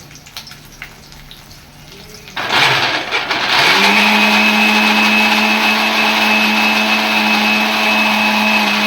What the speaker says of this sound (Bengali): আমি যে পেঁয়াজ বেরেস্তা আর কাজুটা পেস্ট করে নিচ্ছি।